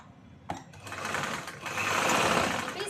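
A sewing machine stitches along the edge of a choli top's fabric, its motor whirring in a steady, close run that starts with a sharp thump and builds to a dense, even buzz, with no voices.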